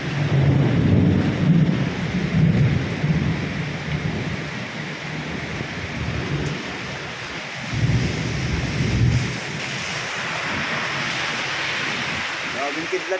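Heavy rain pours without a break through a lightning storm, with deep rolls of thunder rumbling in and swelling at the start and again midway, and speech low under the downpour.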